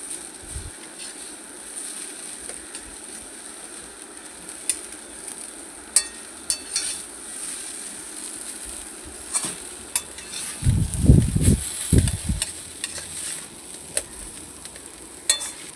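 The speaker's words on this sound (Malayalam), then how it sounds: "നന്നായിട്ട് മിക്സ് ചെയ്യുക." Stirring beetroot and sprouted green gram thoran in a pan, a quiet steady scrape and sizzle with a louder burst of spoon-on-pan stirring near the end.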